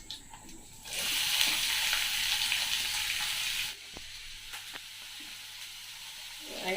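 Onions drop into a hot pan of cumin and break into a loud, steady sizzle for a few seconds, then settle to a softer crackle.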